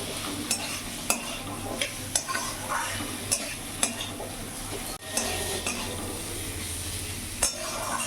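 Spices with garlic paste and cumin powder stirred and fried in a pan for a silver carp curry, a continuous sizzle with regular scrapes and taps of a spoon against the pan, close and steady.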